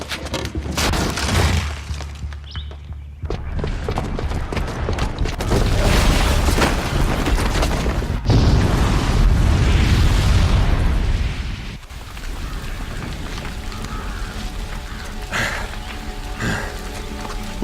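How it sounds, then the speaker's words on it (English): A bomb detonates in Horizon Zero Dawn, setting off loud, sustained booming blasts with rumbling debris that fill the whole stretch, surging twice before settling into a lingering roar. "the booby trap on the bomb downstairs is gonna get set off"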